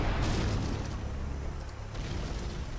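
A heavy, rumbling Tomahawk cruise missile explosion in the video game Command & Conquer Generals fills the space, a sustained roaring boom that slowly fades, with no voices over it.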